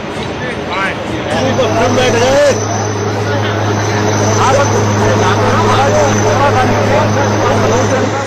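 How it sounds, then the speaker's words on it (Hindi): An Air Force helicopter hovers during a flood rescue, its steady engine and rotor drone continuing throughout while a voice talks over it. "वायुसेना के हेलीकॉप्टर के नीचे रस्सी लटकाई गई।"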